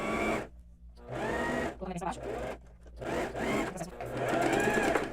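An overlock sewing machine stitches the shoulder and side seams of a basic blouse in a few bursts of fast mechanical whirring, with a voice talking between and over the runs.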